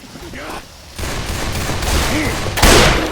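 Video game gunfire, a rapid fusillade of shots that comes in rolling bursts, loud and close, mixed with game speech and ambient battle noise.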